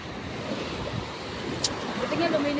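Sea waves wash steadily onto a shallow beach with a reef, a continuous rushing surf under wind, fairly close and moderately loud.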